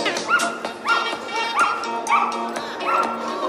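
At a big-air dog show, a Jack Russell Terrier lets out a steady string of high, excited yapping barks about every half second, near and loud over a faint crowd murmur.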